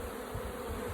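Honeybees buzz steadily around an opened hive, a close, continuous insect drone with no talking.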